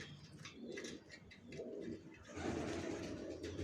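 Young Johnson racer pigeons coo in soft repeated throaty phrases close by, a few overlapping calls with faint chirps in a quiet setting.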